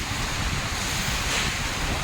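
Steady wind buffeting a microphone outdoors in the afternoon, a constant broadband roar with no gaps, loud and close, no talk.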